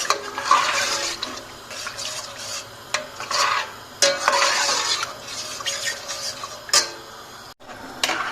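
Water poured into a pot of red lentil soup, splashing and sloshing in bursts mixed with clinks of a metal pot and spoon, close and moderately loud, with no talking.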